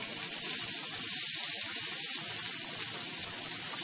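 Minced onion frying in a Salad Master skillet, giving a steady, close, even sizzle and hiss that holds without a break and has no talk over it.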